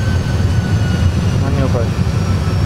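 A320 jet engines roaring in reverse thrust during the landing rollout, a loud steady broadband rumble that fills the whole clip, with brief cockpit voices under it.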